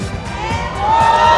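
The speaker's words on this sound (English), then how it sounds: "The crowd is cheering for Keyboy like he's going to a grand finals" An arena crowd at a Mobile Legends M5 esports knockout match cheers and shouts loudly for a moment, voices swelling together with a rising whoop near the end.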